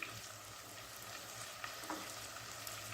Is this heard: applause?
no